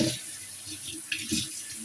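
Running tap water splashes steadily into a sink, with small shifts in the flow as crabs are rinsed under it.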